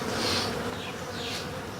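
Bees hum and buzz steadily at a beehive during a first inspection, a dense close drone with passing louder buzzes from individual insects and no voices.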